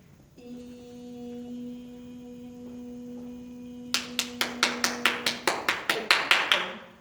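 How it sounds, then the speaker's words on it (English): Hands clap about a dozen times in a quick, steady rhythm during a spirit healing, or psychic surgery, session. The sharp, close claps come after a few seconds of quiet, low hum. "The clapping is a dispersal of energy"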